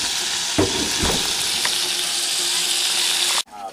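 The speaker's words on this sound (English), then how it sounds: "It's sizzling. It's degreasing itself." Lean beef meatballs sizzle steadily in hot oil in a pan, a loud dense hiss with a few soft knocks from stirring, cutting off abruptly near the end.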